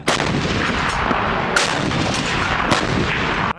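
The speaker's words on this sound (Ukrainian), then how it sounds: "Наша артилерія відбивалась практично без перепочинку." Continuous artillery fire in the Debaltseve area during the war in eastern Ukraine, with heavy booms repeating in a sustained, loud barrage.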